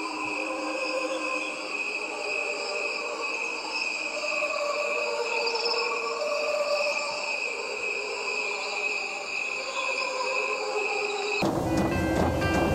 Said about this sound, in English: What you are hearing are the crickets only.